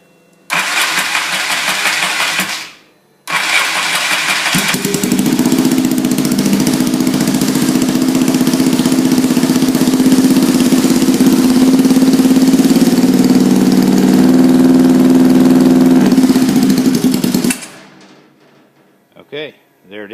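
A carbureted engine fitted with pod filters, choke down and wired to a toggle switch, cranks briefly after a pause, catches, and idles loudly and steadily for about thirteen seconds before cutting off abruptly.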